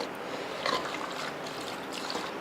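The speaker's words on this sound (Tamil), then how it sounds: "இப்போ தண்ணி சேர்த்துடலாம்" Water trickling and splashing steadily into a pressure cooker pot, a continuous close-up pouring sound without voices.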